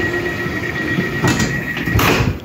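A door on an IC951 train in Finland is slid shut by hand. A rumbling, scraping slide ends in a couple of louder knocks over steady background noise.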